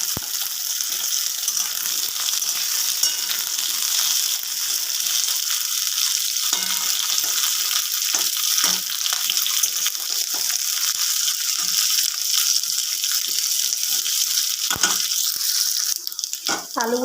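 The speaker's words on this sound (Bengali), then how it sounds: "আলুগুলো দিয়ে ভালোভাবে ভেজে নেবো আগে" Cut potatoes fry in a hot pan for a ridge gourd dish, giving a loud, steady sizzle that fills the whole stretch, with occasional light clatters of stirring.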